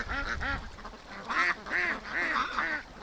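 Ducks and geese on a creek calling in a burst of loud honking quacks, several calls in quick succession, close by as the flock takes off toward the lake.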